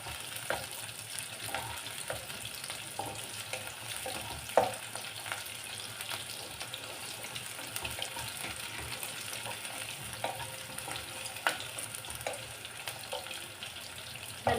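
Onions and spices sauté in a pan for fish curry, a steady close sizzle and frying hiss throughout with occasional light stirring clicks.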